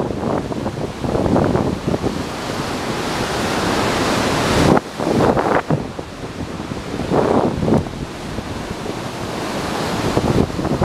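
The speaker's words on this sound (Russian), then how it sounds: "Причем как раз большая пошла волна." Big sea waves crash one after another onto a beach in stormy, windy weather, with a constant roar of surf, repeated surges and heavy wind buffeting the microphone.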